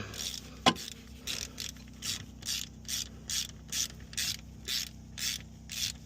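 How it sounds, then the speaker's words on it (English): A ratchet cracks loose the lower differential bolts on a G35 while a diff brace is being installed. One sharp metallic knock is followed by about ten evenly spaced bursts of close ratchet clicking. "we're going to crack these two bottom right bolts loose on the diff"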